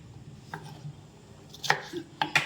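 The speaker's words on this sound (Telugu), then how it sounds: "ఇట్ట పెద్ద ముక్కలు కట్ చేసుకోవాలి" Cucumber being cut into big pieces for a village-style dal: a few scattered knife chops against a board, near and fairly soft, with quiet gaps between strokes and no talk.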